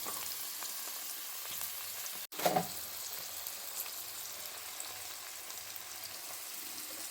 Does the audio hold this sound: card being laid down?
no